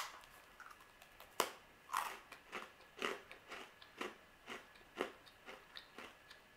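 Crunchy Lenny & Lordy's protein cookies being bitten and chewed up close, a string of sharp crunches in an irregular rhythm, fairly quiet with no talking.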